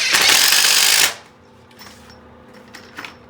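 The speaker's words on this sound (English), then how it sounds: "you gotta have this hammer drill here" A hammer drill bores into a bathroom floor while an old toilet flange is repaired: one loud, harsh second-long burst, close by, then it stops, leaving faint clicks and handling noises.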